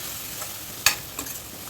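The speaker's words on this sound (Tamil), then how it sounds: "இது நல்லா ஃப்ரை ஆகட்டும்" Quiet sizzling of tomatoes in a pan with a couple of sharp stirring scrapes against the metal, close by and without talk.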